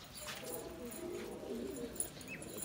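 Pigeons coo softly at a rooftop loft, a steady low murmur of calls running through the whole stretch with a faint chirp near the end.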